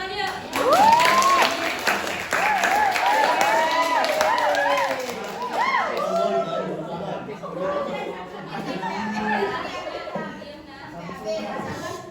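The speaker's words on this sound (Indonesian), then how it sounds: "Ya, tepuk tangan ya." Students in a classroom clap and chatter after a poem is read aloud, lively applause mixed with children's voices and talk that fades into scattered chatter.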